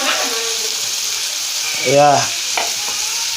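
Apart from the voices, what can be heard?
fish frying in a pan with fried onions and tomato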